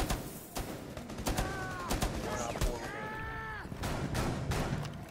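Gunfire from a video game cracks in scattered sharp bursts against a busy background, with whistling tonal effects rising and falling between the shots.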